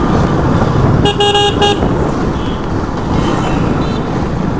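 Heavy road traffic on the Coimbatore to Namakkal route rushes past loudly and steadily, heard from a motorbike. A car horn sounds a short burst of toots about a second in.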